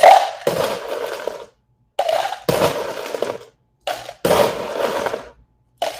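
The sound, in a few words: whisking genmaicha matcha for iced latte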